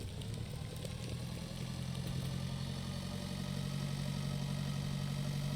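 A tractor engine in the farming simulator Pure Farming 2018 runs at a steady idle, a constant low mechanical rumble with faint clatter and no talk over it.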